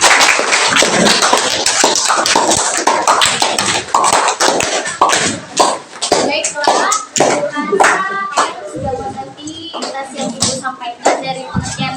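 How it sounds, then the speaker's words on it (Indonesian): A group claps hands in a sustained round of applause for a student group after a classroom presentation, with a few voices and a brief word spoken over the clapping. "tepuk tangan dulu untuk kelompok 2"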